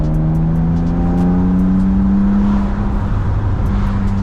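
A BMW E36 328i with a single exit exhaust runs close by as a steady, loud engine drone with a low tone, holding an even pitch throughout with no talking.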